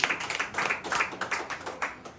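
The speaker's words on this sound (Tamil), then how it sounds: "கைத்தட்டி ஆண்டவர் மகிழ்ச்சி பார்க்கலாம்" A church congregation claps their hands in a loose rhythmic pattern, a series of close, bright claps following one another at a quick, uneven pace.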